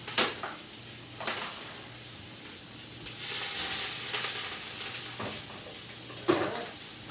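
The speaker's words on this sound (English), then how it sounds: "Oh yeah, sizzle." Steady frying sizzle of chicken in hot oil, hissing continuously with a louder surge midway and a few sharp clatters of utensils.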